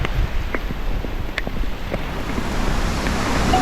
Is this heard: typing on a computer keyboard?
no